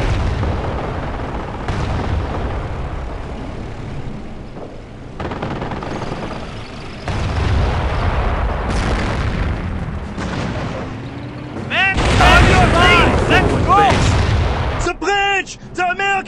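Dense wartime battle din from Company of Heroes, set in the Falaise Pocket: continuous booming explosions and rattling gunfire under in-game radio chatter, swelling louder with heavy blasts and sharp bursts toward the end.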